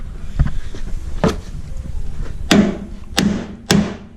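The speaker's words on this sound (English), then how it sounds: "get this hammered out a little bit, straightened up" Several sharp metallic hammer blows ring out as bent metal on a crashed Ford Bronco is straightened, spaced irregularly with a few softer knocks between them, close and loud.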